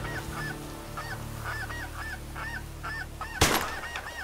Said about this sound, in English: We're looking at this flock of snow geese